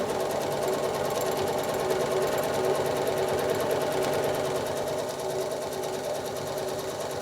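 A sewing machine quilting straight lines on a 9-patch quilt block, running at a steady, fast stitching rhythm with an even mechanical whir, close by and continuous throughout with no talking.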